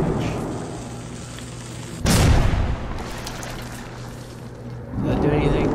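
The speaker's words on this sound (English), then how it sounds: "I'm gonna throw a nade in there." A grenade goes off in the shooter game Metro 2033 Redux, a sharp, loud blast that lingers briefly, followed later by a second rumbling burst, with a player talking over the game sound.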